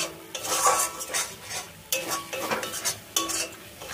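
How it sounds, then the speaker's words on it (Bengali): Spice masala stirred and fried in a pan for alur dom after a splash of water, a steady close sizzle with rhythmic spatula scraping across the pan. "এখন ভালো করে এটা কষিয়ে নেব।"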